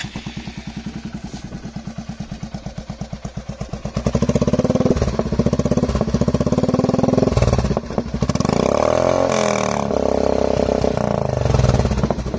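A Royal Enfield Meteor 350 motorcycle with a loud aftermarket exhaust idles with a deep, rapid thump, then revs up into a harsh, sustained roar.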